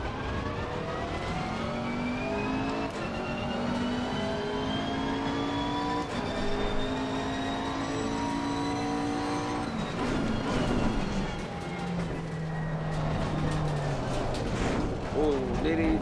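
Race car engine in Assetto Corsa Competizione on the Zolder circuit, revving hard through rising and falling pitch with repeated gear changes, including a missed downshift, loud and continuous with a voice talking over it.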